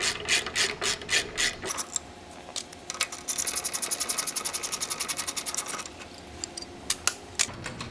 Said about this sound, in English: hammer it in on the back side of the ratchet. And then go ahead and break that bolt loose